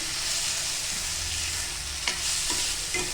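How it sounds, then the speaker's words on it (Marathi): Paneer kheema sautéing with turmeric and salt in a pan, a steady close frying sizzle broken by a few soft scrapes and taps of a spatula stirring, with no voices. "चांगलं परतवून घेऊया"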